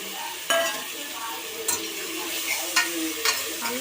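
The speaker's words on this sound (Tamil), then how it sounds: "நல்லா கிண்டி விட்டுட்டு" A spoon scrapes and stirs through lentils and spices for sambar in a pan over a soft sizzle, with a few sharp clinks against the pan at irregular moments.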